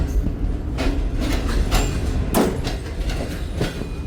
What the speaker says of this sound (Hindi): खान अराइवल हुआ है ट्रेन का 27। अब शालीमार एक्सप्रेस इतनी जल्दी निकल आई।